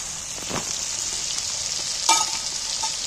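Garlic paste sizzles steadily in hot oil in a pan, with a spoon stirring it and one louder scrape partway through.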